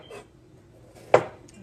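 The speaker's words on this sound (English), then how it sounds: "I'm just chopping up a bell pepper." A knife chops a bell pepper on a board, with a soft tap followed by one sharp, close, distinct cut and a fainter knock after it.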